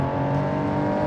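A 1955 sport coupe's engine revs hard and accelerates in a BeamNG driving game, a loud, steady, continuous drone with no break.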